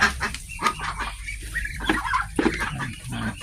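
A flock of ducks calls noisily and continuously on a duck farm, overlapping nasal honks and quacks close by, with no talking.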